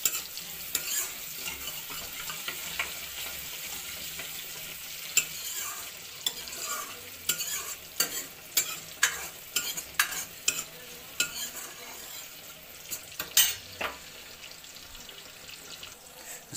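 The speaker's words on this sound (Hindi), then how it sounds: "अब हम इसमें प्याज और हरी मिर्ची डालेंगे और इसको स्लो आंच में थोड़ी सी पकाएंगे, रोस्ट करेंगे, भूनेंगे" Onion and green chillies roast in a pan over a slow flame, a steady soft sizzle broken by repeated scraping and clinking of a spoon stirring, close and moderately quiet throughout.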